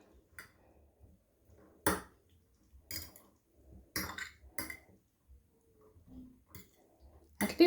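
Small Barbie-inspired pink mixture stirred in a bowl: scattered clinks and scrapes of a utensil against the bowl, soft and close, in irregular short strokes with quiet gaps between them.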